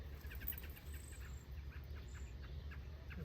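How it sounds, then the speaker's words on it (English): Several birds chirp and call in short repeated bursts in a summer vegetable garden over a steady low outdoor rumble, fairly close and moderately loud. "A bunch of upset birds."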